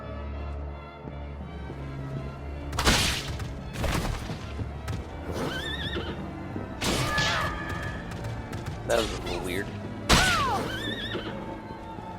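Horse neighs and hoof clatter from the video game Bloodstained: Ritual of the Night, with several sharp whinny bursts over a steady game backdrop, plus a brief spoken remark.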